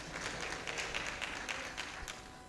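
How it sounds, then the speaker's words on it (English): Audience applause at a pharmaceutical partnership signing event, honoring the officiating minister, a moderate patter of many hands clapping at a steady pace, a little distant, with faint voices mixed in. "Can we give a round of applause to our officiating minister"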